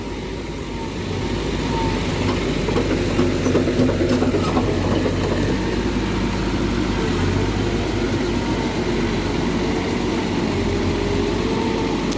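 A brand-new Bobcat E55 mini excavator runs with its engine idling steadily, a loud continuous low rumble with a faint mechanical whine on top, holding an even level throughout after a slightly quieter first second.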